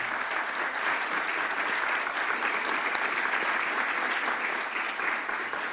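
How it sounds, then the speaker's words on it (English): Steady, full audience applause fills a regional conference hall after a panel session, a continuous dense patter of many hands holding an even level throughout. "let's clap for the panel."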